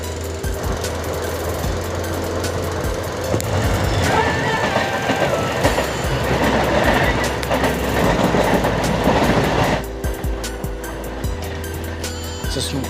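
Passenger train on the Tinsukia to Guwahati line in Assam, heard from onboard as a steady loud rumble with rhythmic rail clatter and wheel noise throughout, easing slightly near the end.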